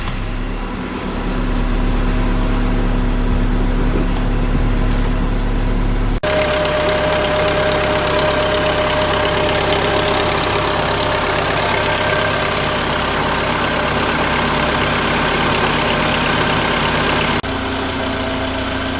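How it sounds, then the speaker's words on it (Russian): A VW Polo sedan 1.6 CFNA engine idling at room temperature, warm-up revs settling down: a loud, steady mechanical hum with a faint ticking rattle, heard close, with a brief shift in tone partway through and no talk. "Вот он сейчас сбавляет прогревочные обороты"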